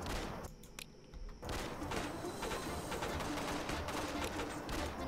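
Gunfire in the Western train combat game Bounty Train, a dense continuous volley of shots with a bright crackling texture after a brief lull, loud and steady throughout with no talk.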